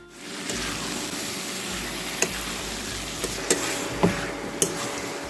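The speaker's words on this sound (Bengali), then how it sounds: "এখন ম্যারিনেট করা চিকেনটা দিয়ে দিচ্ছি চিকেনটাকে খুব ভালো করে কষিয়ে নিতে হবে" Marinated chicken frying in hot oil for a Bengali chicken kasha, a steady close sizzle with a few sharp clicks and scrapes of stirring, no talking.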